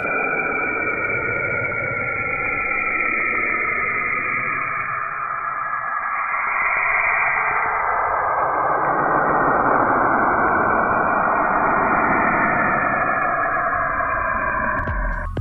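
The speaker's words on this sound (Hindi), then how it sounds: "ब्रह्मांड के सबसे दूसरी बड़ी ग्रह सैटर्न यानी शनि ग्रह, इसका आवाज बहुत ही अजीब और डरावनी है।" A space recording presented as the sound of the planet Saturn: an eerie, wavering drone that hums steadily for the whole stretch with slow swells and no voices.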